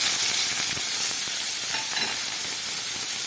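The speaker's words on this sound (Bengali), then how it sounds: "এই আলু ভাজার তেলের মধ্যে আমি দিয়ে দিচ্ছি কিছুটা পেঁয়াজ" Onion frying in oil left over from frying potatoes: a steady, bright sizzle and hiss that carries evenly throughout, with faint occasional stirring scrapes and no voices.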